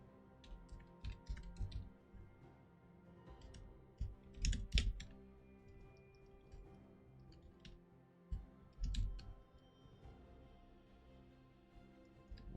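Someone types on a computer keyboard in quick bursts of close, crisp key clicks with short pauses, over a faint steady background hum.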